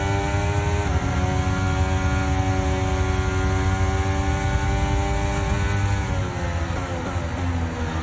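Simulated Formula 1 race car engine from the F1 23 video game on the Las Vegas track, a loud sustained high-revving whine with rising and falling harmonic pitch sweeps as gears shift, with no speech.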